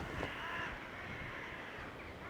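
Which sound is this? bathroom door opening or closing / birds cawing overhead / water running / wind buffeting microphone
birds cawing overhead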